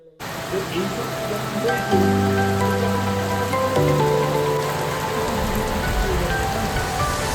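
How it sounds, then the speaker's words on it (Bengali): Rain falls steadily outside a homestay in the hills of Sittong, a dense continuous patter on surfaces with faint voices and low tones mixed beneath it. "বাইরে বৃষ্টি পড়ছে"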